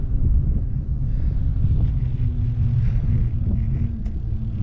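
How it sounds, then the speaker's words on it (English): Strong wind buffeting the microphone during a bike ride along an old railway trail, a loud continuous low rumble and roar that never lets up. "The wind's a killer, isn't it?"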